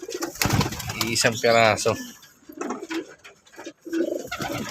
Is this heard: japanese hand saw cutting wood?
no